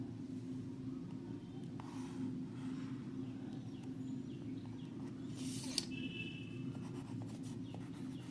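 A pencil draws a line segment on paper, making soft, faint scratching strokes over a constant low background hum.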